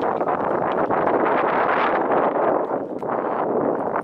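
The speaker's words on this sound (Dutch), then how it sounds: "Nou gaat de wind ons part spelen." Strong wind roars and buffets steadily outdoors in Ammerstol, Netherlands, a broad rushing noise that barely lets up for the whole stretch.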